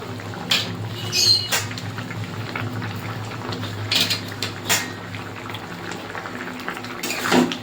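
Spiced gravy for shukto, a Bengali vegetable dish, bubbling in a cooking pot, a steady low simmer with soft bubbling and occasional clinks of utensils against the pot.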